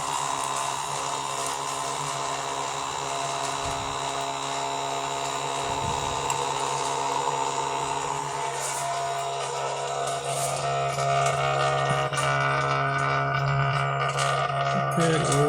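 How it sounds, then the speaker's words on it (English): An electric oil extractor pump runs steadily while drawing oil out through the oil filter housing of a BMW E46 engine, giving a continuous mechanical whine and hum with small clicks and knocks on top. "we want to suck up as much oil as we can from the oil filter socket"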